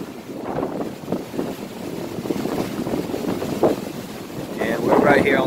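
Strong wind buffets the microphone in a steady roar ahead of a storm, with the rush of water around a boat in the Gulf of Mexico off Mississippi and a brief creak near the end.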